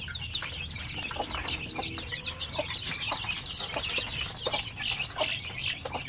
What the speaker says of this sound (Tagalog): So dito natin nilagay yung ating mga sisiw.